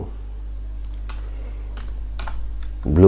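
Code is typed on a Windows computer keyboard in a few sparse, quiet keystrokes over a low steady hum, ending with a louder thump.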